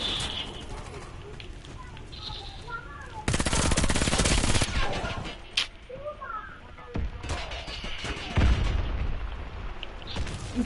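Gunfire in the shooter game Warface, bursts of shots and a loud dense barrage in the middle, mixed with game effects and voices talking over it.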